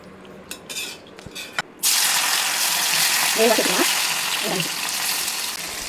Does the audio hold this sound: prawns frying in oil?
yes